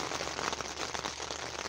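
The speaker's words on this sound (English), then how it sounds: "it started raining" Steady rain patters on a tent, a dense even hiss of drops continuing throughout at moderate level with no voices.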